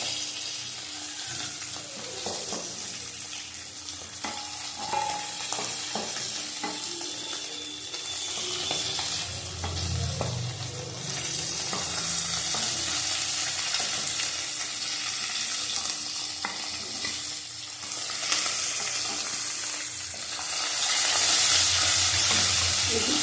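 Parshe fish fry in hot oil, giving a constant close sizzle with occasional stirring scrapes and a rising hiss toward the end, no talking.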